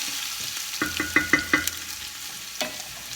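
Garlic being stirred in a frying pan for papaitan, with several sharp scraping clinks of a utensil against the pan in a quick series, then one more later over a faint background hiss.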